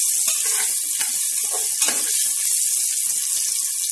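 Potatoes sizzle and crackle loudly in a hot pan, a continuous bright hiss with occasional stirring scrapes, no talking.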